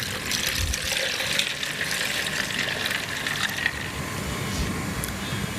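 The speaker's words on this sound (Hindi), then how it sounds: "अब हम इसमें ऐड करेंगे ये बॉयल हुआ हुआ पानी" Boiled water poured steadily into a jug, a continuous splashing gush for several seconds, close and fairly loud with no talk over it.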